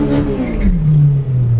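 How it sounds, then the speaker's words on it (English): A Honda-powered Toyota MR2 race car engine held near its rev limiter gives a close, loud, droning roar whose pitch slides steadily lower over a second and a half. "I felt the limiter kick in"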